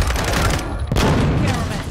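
Gunfire in a shooter game rattles in rapid, loud repeated shots, a dense burst of fire with a sharp crack near the middle, while a player talks over it.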